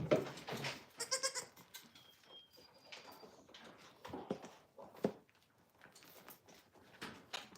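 Young goat kids on a farm bleating in several short, close calls spread across the stretch, with quiet farm background between cries.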